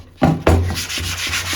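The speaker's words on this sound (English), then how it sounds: "So I'm gonna hit this with just a little sanding block. Just gonna lighten up some of that wood." Small sanding block rubbed over wood on a European deer mount, a few loud, close rasping strokes in a quick back-and-forth rhythm with no voices.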